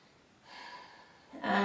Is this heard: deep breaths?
yes